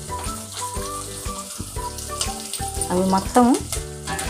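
Chopped onions and green chillies fry in oil for a potato kurma, a steady sizzle partly covered by loud background music, with a brief spoken phrase near the end.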